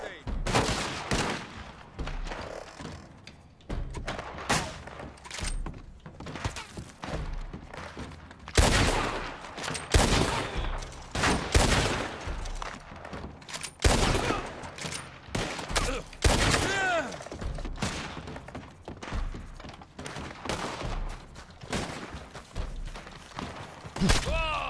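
Enemy gunfire in a video game, with dense bursts of automatic shots and scattered single reports carrying on almost without pause, loud and close.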